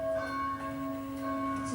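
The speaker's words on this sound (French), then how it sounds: "Quand on a entendu les cloches sonner, on s'est tous demandé pourquoi elles sonnaient comme ça." Church bells ring with steady, sustained tones and a faint, distant character, part of a sound and light show in Bellefontaine.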